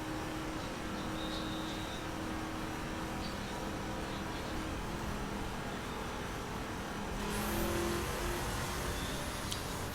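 A Ford F-150 SVT Raptor runs flat out in The Crew at over 300 km/h, giving a steady, dense roar of engine and rushing wind that holds constant throughout with only a slight swell near the end.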